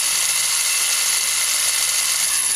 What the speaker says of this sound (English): Now the reason I'm drilling out this car here